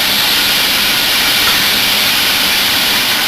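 Garlic and ginger sizzle in a hot pan, a loud, steady, dense hiss that holds without a break, close by and with no one speaking.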